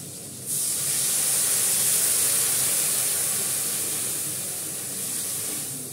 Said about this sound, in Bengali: অল্প করে জল দিলাম, বেশি দেবো না